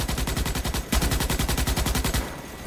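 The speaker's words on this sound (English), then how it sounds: "That guy just shot me with something." Rapid automatic gunfire from the video game Starship Troopers: Extermination rattles in a dense, continuous burst that stops briefly, then rolls on for nearly three seconds before tapering off.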